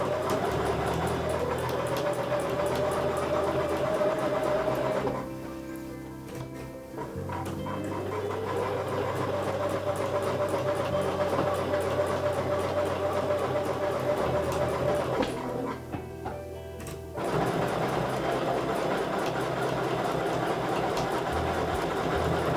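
Sewing machine stitching through a quilt sandwich, motor humming steadily and loud up close, with two short pauses where the running stops before resuming.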